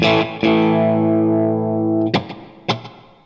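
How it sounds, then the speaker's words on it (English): A distorted electric guitar chord rings out, followed by picked notes with quick, short echoes repeating each attack close behind, like a tight slapback, from a Fender Mirror Image delay pedal in digital mode. "It's a very short, almost slapback type delay."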